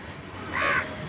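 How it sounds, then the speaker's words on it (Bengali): A single crow caws once on a rooftop, a short, fairly close call that rises out of quiet background hiss. "বলছি একটা কাক ডাকে আ সবগুলো এসে কীভাবে বসে"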